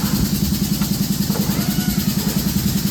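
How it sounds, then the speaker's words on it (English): Kubota V38 diesel engine idling in a Hyundai 45D-9F forklift, a steady close chugging with even rapid pulses and no talk over it. "with this engine, it's a Kubota V38"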